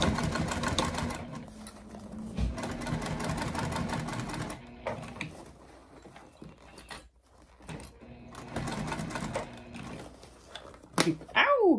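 A sewing machine runs in steady mechanical bursts, a rapid rattling drone broken by short pauses, with someone talking now and then.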